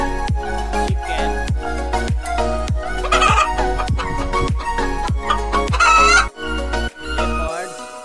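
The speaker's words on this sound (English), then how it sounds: "Chicken." Chicken clucks and rooster-like calls sound over loud, bright background music, the bird noises mixed into the busy, steady track.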